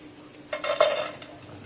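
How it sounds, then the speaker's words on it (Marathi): Chopped vegetables such as carrot, capsicum and cabbage dropped into a cooking pot, a short soft clatter and rustle followed by a brief spoon scrape, close by in a quiet kitchen. "आता एक एक करून मी सर्व भाज्या टाकते"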